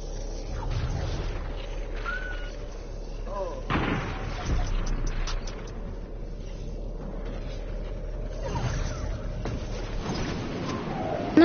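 An enemy player shooting in a PS4 video game, with a few booming gunshot bursts scattered through the clip. A voice talks over much of it.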